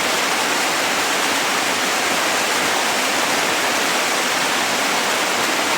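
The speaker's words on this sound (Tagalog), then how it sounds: "Malakas yung ulan dito ngayon." A dense, steady roar of heavy rain, loud and unbroken throughout, like a downpour drumming close by.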